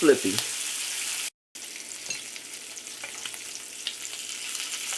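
Bacon frying in a hot pan for a BLT, a steady crackling sizzle that runs throughout with a loud spatter at the start and a brief cut to silence partway through.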